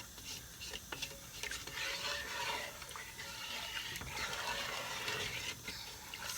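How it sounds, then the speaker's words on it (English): A spoon stirs a pot of melting ingredients meant for chillies, making soft, uneven scraping and liquid swishing, quiet and close, with occasional light clinks and no talk. "So give it a good stir."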